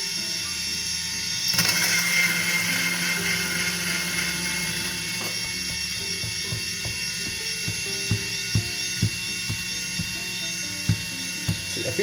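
A Starseeker coffee grinder set to 5 grinds coffee with a continuous high-pitched electric whine, close and steady, with faint clicks and taps toward the end.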